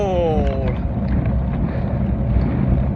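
Constant wind rumble on the microphone, with a brief falling tonal whine at the start and a faint voice fragment underneath.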